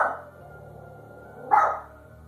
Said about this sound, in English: Suddenly, the dog becomes alert, barking at something unseen by the camera or the owner.